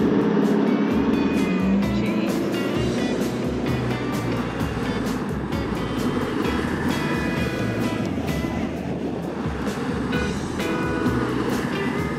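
4x4 vehicles race at speed along a wet sandy beach in South Australia's Eyre Peninsula, engines droning loud and near over a steady wash of surf and wind, with sharp transient knocks from the tracks.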